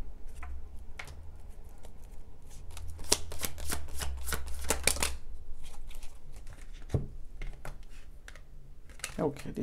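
Tarot cards are shuffled by hand in a reading, giving dense papery riffling and flicking bursts, loudest in the middle stretch, with someone talking at times.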